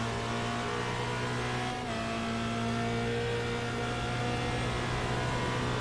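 Formula Renault 2.0 race car in a racing video game at the Nurburgring, heard from the cockpit: a steady, loud engine drone holding a high pitch throughout, with a brief dip near the two-second mark, no talk.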